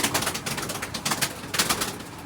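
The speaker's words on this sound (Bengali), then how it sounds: "এই যে হচ্ছে ভাইয়ের সিলভার কালার পিজন।" Silver-coloured pigeon in a loft with several soft, breathy coos and wing-fluttering bursts at close range, alone with no talk, in repeated pulses about every half second.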